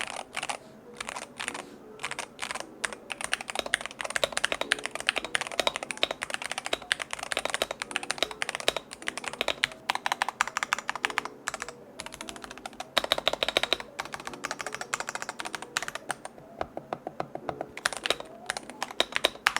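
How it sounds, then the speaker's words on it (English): Rapid typing on a DrunkDeer A75 Pro mechanical keyboard, crisp clacky keystrokes in bursts and runs, close up and alone with no voices. "let's do the honors of a sound test"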